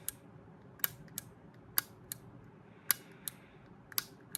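The top pusher of a 112-year-old New York Standard chronograph pocket watch clicking, sharp isolated metallic clicks at an uneven pace, about ten in a row, close and quiet against a soft background.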